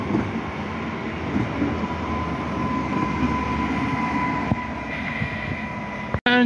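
A Polish passenger train on the Kraków–Tarnów line rolls past at close range, a steady, dense rumble of wheels and carriages holding level throughout, with a faint tonal whine above it and a brief sharp knock near the end.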